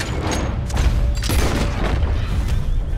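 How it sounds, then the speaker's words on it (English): Gunfire in a Red Dead Redemption 2 shootout, heard as a dense run of booming shots and rumbling blasts that continue without a break across the whole stretch at a steady, loud level. "they're shooting each other"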